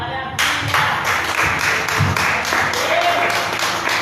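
A church congregation claps in unison, a steady run of hand claps filling the space from start to finish, loud and close, with a faint voice underneath.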